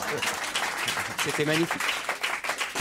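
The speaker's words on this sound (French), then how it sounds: "Applaudissements, s'il vous plaît." Studio audience applause on a French television comedy show, a short burst of clapping heard under a voice talking over it.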